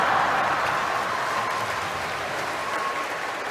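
Church congregation applauding, a dense, steady wash of clapping that holds loud for several seconds and eases slightly toward the end.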